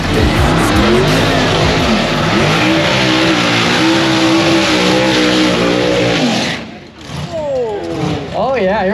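A Chevy II drag race car roars loudly up close at a drag strip, its engine revving hard with rising and falling pitch before cutting off abruptly near the end, followed by another quick engine burst.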